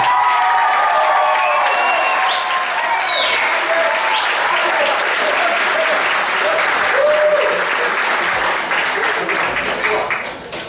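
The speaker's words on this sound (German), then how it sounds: "Bitte nochmal Applaus an die beiden." Loud, sustained crowd applause for two boxers after a bout at an amateur newcomer boxing gala, steady clapping filling the room with an announcer's voice speaking over it.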